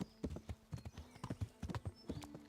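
A horse gallops in the Elden Ring Nightreign video game, quick irregular hoofbeats thudding close and clear over a quiet background.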